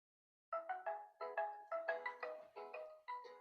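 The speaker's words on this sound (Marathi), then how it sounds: "फोन कोणाचा आला?" A mobile phone ringtone plays in an office, a short repeating electronic melody of bright pulsed tones starting after a brief silence, fairly quiet and alone without speech.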